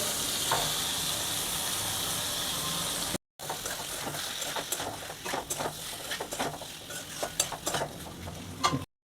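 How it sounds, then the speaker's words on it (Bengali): Taro stolons with cumin powder and turmeric frying in a pan while being stirred, a constant sizzle broken by a brief gap, then rapid scraping and tapping strokes of a utensil against the pan, close and moderately quiet. "দিয়ে দেবো অল্প জিরে গুঁড়ো। দিয়ে দেবো কচুর লতিগুলো।"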